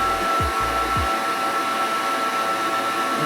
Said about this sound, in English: then I'm going to sit under the dryer for about 45 minutes